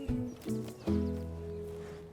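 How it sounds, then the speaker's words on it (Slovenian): A horse called Harry on a farm whinnies and snorts in short bursts close by, with a stamp or clip-clop of hooves and a lower, sustained breathy tone after it. "Harry je konj."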